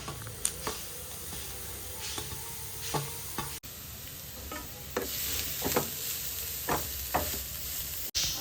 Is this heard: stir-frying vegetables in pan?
yes